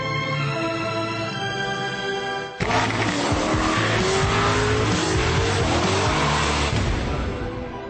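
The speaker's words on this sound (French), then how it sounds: "V8, 450 chevaux, voici l'Alfa 8C Competizione." Alfa Romeo 8C Competizione sports car with a 450-horsepower V8, heard as a loud, continuous engine roar that shifts abruptly midway, with rising tones of acceleration and tire noise, no talking.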